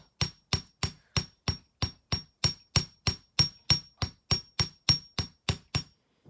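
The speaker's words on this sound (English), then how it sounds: "So we will hammer the loop" Close, sharp hammer strikes on a wire loop and spiral, about twenty evenly spaced blows with a slight metallic ring, alone with no talking.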